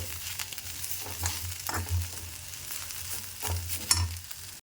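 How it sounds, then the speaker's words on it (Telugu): Radish leaf curry sizzles in a pan as turmeric is stirred through, with soft continuous frying hiss and repeated scraping strokes of the spoon at a steady, unhurried rhythm, close and fairly quiet. "పసుపు వేసేసుకొని మొత్తం కలిపేసుకోవాలి"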